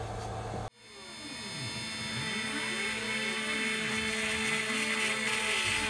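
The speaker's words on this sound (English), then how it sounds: "I manually turned down the feed rates just to see how this high-speed steel tool, especially one at this length, was going to cut." Long high-speed steel tool cutting on a drill press. A sharp change near the start gives way to a steady, loud, whining machining tone with sweeping, wavering harmonics that hints at chatter, with no talk.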